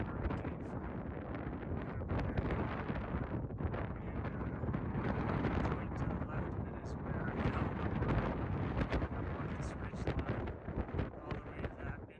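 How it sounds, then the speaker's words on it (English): Strong, continuous wind on a mountain buffeting the microphone with gusty, roaring rumble throughout, loud and close, with no clear talk. "It's pretty windy up here"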